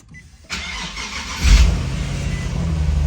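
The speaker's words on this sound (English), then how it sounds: "it's still kind of struggling to turn on, but at least the car is on" A Nissan 370Z with a weak battery cranks and then catches, its engine starting with a low rumble and settling into a loud, steady idle close by.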